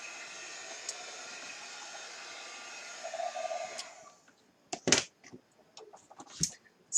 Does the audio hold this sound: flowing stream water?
no